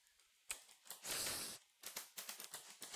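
Someone types a web search on a computer keyboard. It comes through as quiet, irregular clusters of key clicks with short pauses and one longer burst of rapid tapping, close to the microphone.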